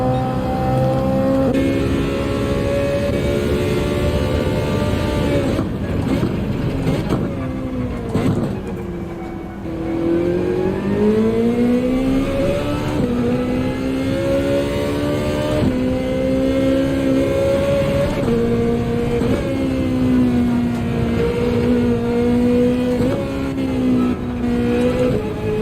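Ferrari race car engine in Gran Turismo 7 during an endurance event, a continuous loud high-pitched drone rising and falling through gear changes and throttle lifts, heard close from the cockpit with no talk.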